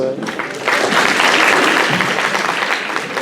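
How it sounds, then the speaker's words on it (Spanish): A class of students breaks into loud, dense applause for a professor at an inaugural lecture, a continuous roar of clapping that holds steady throughout. "Un voto de aplauso más fuerte para el profesor Lino Castro"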